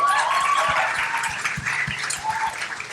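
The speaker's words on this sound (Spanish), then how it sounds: "Vamos a darle un aplauso a Pris." Audience applause at a live talk or event, a steady wash of clapping that fills the whole stretch at moderate level with no talk over it.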